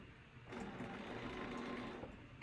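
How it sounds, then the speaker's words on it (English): A sewing machine stitches down flower stems on a quilt, a quiet, steady mechanical whir with a rapid needle rhythm that starts abruptly and runs for about two seconds. "I may just sew down on each side and call it a day."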